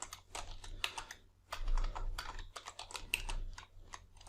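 Rapid, steady clatter of keys being typed on a computer keyboard, close and continuous with brief pauses, no voices.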